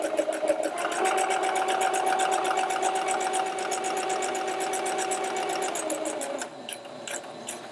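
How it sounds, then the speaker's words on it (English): Sewing machine running steadily as it stitches ruffled fabric for a clutch wallet, a fast, even mechanical chatter held close and loud for several seconds before easing slightly near the end. "And then you're just going to sew it all the way down the end."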